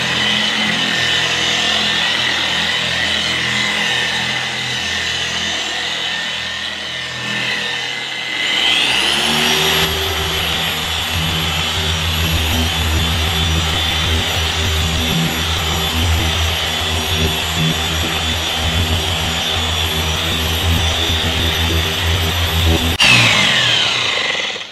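A paint polisher on a Subaru BRZ hums at low speed, then spins up with a rising whine to speed setting 6 and runs steady and loud for about fifteen seconds before winding down, with no voices.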